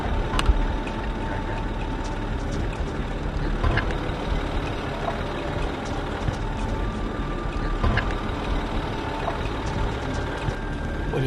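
Land Rover climbing a sandy beach hill in low range in drive: steady, dense engine and drivetrain rumble throughout, close and fairly loud, with faint scattered clicks and knocks and no talk.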